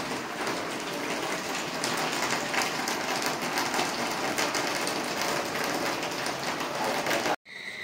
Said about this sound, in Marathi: पाऊस संध्याकाळी जो पावसाने सुरुवात केली ना तो पाऊस थांबलाच नाही